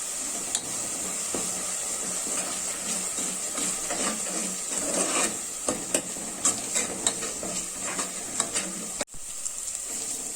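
Masala sizzles and crackles steadily in a hot pan, with scraping stirs and light clinks close by.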